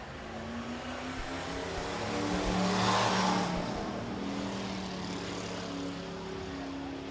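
A hobby stock race car runs a test lap at Rapid Speedway. Its steady engine drone builds as the car passes close by, peaks, and then holds at a lower level as it moves away down the track.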